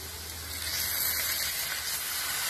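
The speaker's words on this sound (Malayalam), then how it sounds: "നമുക്കിതൊരല്പം വെള്ളം ഒഴിച്ചു കൊടുക്കാം ഇതിലേക്ക്" Water poured into a hot pot of wheat and prawn dum biryani, giving a steady, close sizzling hiss with a gentle steamy rush that swells slightly and holds for a couple of seconds.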